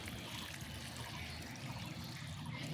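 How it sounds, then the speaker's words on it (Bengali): Water trickles and splashes gently onto a newly repotted Aglaonema plant and its soil, a soft continuous pouring sound that stays fairly quiet throughout. "এখন আমি এই যে জল দিয়ে দেবো গাছটা ধুয়ে দিয়ে জল দিয়ে দেবো"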